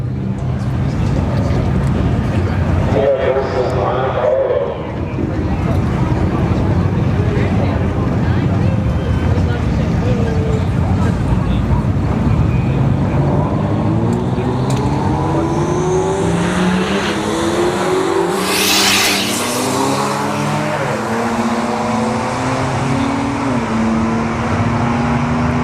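A drag racing car accelerates down the lane at a street-heat drag strip, its engine roaring and climbing in pitch amid strong wind buffeting, with crowd noise and a voice in the background.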